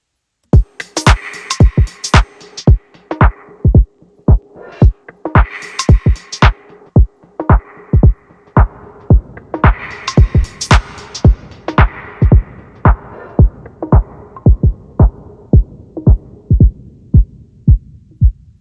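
A looped electronic beat with steady, throbbing pulses and an auto filter sweeping its brightness up and down, reverb added, all shaped live by potentiometer knobs on a DIY Arduino MIDI controller.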